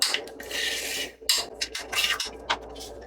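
Paper rubbing against paper as a vellum envelope flap is creased along a grid line: close, dry scraping strokes in uneven bursts with brief pauses between them.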